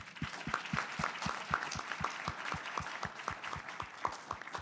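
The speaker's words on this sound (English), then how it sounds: "this representative needs to have applause" An audience applauds with a steady, rhythmic clapping that carries on evenly throughout, moderately distant.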